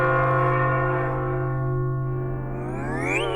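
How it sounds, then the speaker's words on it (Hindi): A bell rings in the Tenali Rama historical drama series, giving a steady, sustained humming tone that holds for a few seconds before a brief rising chirp at the end. "बज गई घंटी।"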